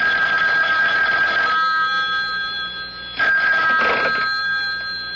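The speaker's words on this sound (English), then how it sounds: "Then he crossed to the public phone to make a call." A telephone rings loudly and close by in two long electronic bursts with a brief pause between them, set at a public phone in a radio mystery drama.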